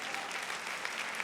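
A church congregation claps together in a sustained, even burst of applause that sounds fairly distant and moderately soft, with no voices rising above it.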